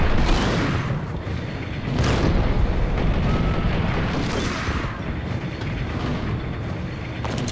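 Heavy gunfire in the Max Payne shooter game, a dense, continuous roar of rapid shots and booming blasts that swells in waves for several seconds without any talking.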